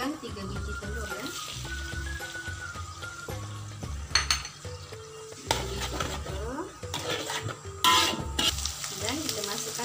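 Eggs fry and are stirred into nasi goreng in a pan, a sizzling bed broken by scraping spatula strokes and clinks of utensils against the pan, with a voice speaking now and then alongside.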